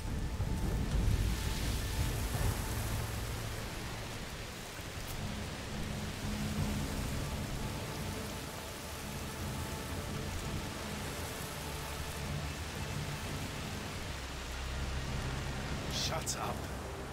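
Steady rain pours in the video game A Plague Tale: Requiem, a dense continuous hiss throughout with a faint crackle near the end.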